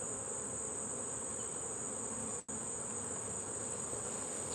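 Honeybees at an open hive hum in a dense, continuous buzz with a thin high whine on top, broken by one very brief dropout midway, and no one speaks.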